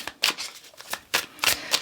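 Oracle cards are being shuffled by hand, giving several quick papery riffles and slaps in an uneven rhythm, close up and alone without talk.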